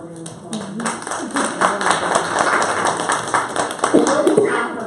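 Audience giving a round of applause at a talk on domestic violence in the Muslim community, a brisk patter of hand claps heard together with voices speaking.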